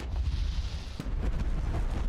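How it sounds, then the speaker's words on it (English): Fireworks in the theme park game Parkitect go off in dense, rumbling bursts with sharp booms over a continuous crackling roar, loud and unbroken. "There's fireworks in this game."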